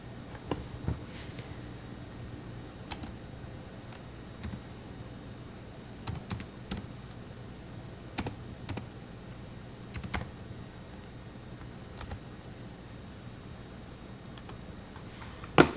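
Someone types an if statement on a computer keyboard, producing sparse, quiet keystroke clicks scattered at an irregular pace over a faint steady background hum, with no talking.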